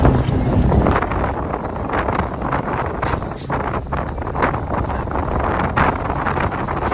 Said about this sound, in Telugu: బయట గట్టిగా గాలి వస్తుంది.